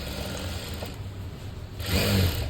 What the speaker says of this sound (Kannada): ನೀಟಾಗಿ ಸ್ಟಿಚ್ ಹಾಕ್ಕೊಡ್ತೀನಿ